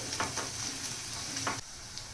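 Chopped onions sizzling in a pan for a Maharashtrian kurdai and capsicum sabzi, giving a steady close frying hiss with a few soft stirring scrapes and no talk.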